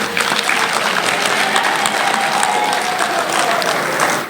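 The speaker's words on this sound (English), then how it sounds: "May we clap hands for them." Applause fills a nursing college graduation ceremony as the crowd claps for the college choir, a sustained, moderately loud ovation lasting several seconds with a faint tone underneath.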